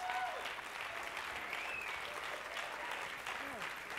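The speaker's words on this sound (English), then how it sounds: "Can we give her another round of applause?" Sustained audience applause at an education summit, a steady even wash of many hands clapping throughout, with brief voices rising faintly above it.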